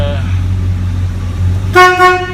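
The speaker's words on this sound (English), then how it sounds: "horn honks" A low engine idles in a 1971 Chevrolet C-20 pickup, then its horn gives two short honks close by.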